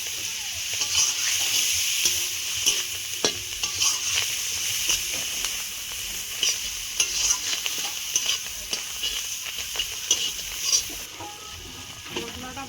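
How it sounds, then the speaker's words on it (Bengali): Spices with chilli powder and coriander leaves fry in oil in a pan, giving a steady sizzle broken by repeated scraping and clinking strokes of a stirring spoon at close range. "মশলাটা ভাজা হয়ে গেছে"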